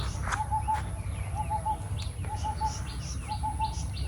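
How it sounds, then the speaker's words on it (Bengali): Birds in a quiet village give repeated short chirping calls in four brief bursts, each a quick run of tweets, fairly faint over a soft low background hum. "পাখির কিচিরমিচির ডাক,"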